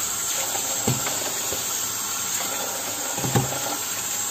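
Plantain pieces boil in a pot of water, giving a steady hiss and bubbling simmer with a couple of soft knocks, close and moderately loud throughout.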